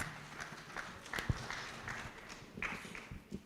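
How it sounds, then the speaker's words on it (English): Scattered, uneven clapping from an audience at a cassava conference session, with irregular hand claps and a few sharper knocks, fairly close and moderately loud, never building into a dense ovation. "Please, can we give her a round of applause?"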